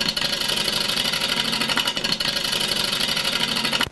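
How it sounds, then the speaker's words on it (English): A wood lathe spins an uneven spalted maple piece, giving a steady close motor hum with a rapid rhythmic wobble throbbing through it, alone without talk, cutting off at the end. "when I turn on the lathe, you can see that it spins and it's very uneven"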